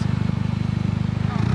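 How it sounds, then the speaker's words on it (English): Low, rapid pulsing exhaust burble from a Mini Cooper R53 with the resonator removed and only the muffler left, a loud steady throb close by with a voice talking over it. "It does little burbles now."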